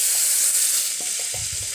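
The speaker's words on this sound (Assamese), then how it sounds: "মই জিৰা দি দিম অকনমান হিং দিম আৰু মই যিখিনি পেষ্ট বনাই থৈছো এই পেষ্টখিনি ইয়াত মই ঢালি দিম" Spice paste poured into hot oil with cumin and asafoetida for an Assamese matar paneer, giving a steady bright sizzle throughout with a few soft low knocks near the end.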